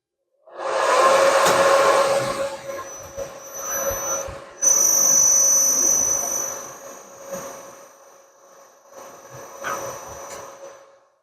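A workshop milling machine or lathe runs at low speed while cutting a workpiece, giving a loud, steady whine with a sustained tone and bursts of harsh cutting noise that ease and return, with no talk.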